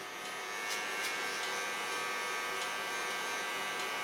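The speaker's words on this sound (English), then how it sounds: "Going to the neckline with the clipper." A small electric hair clipper trims the neckline of a short natural gray feminine haircut, a steady close buzzing drone with faint snips and brushing contact, no voices.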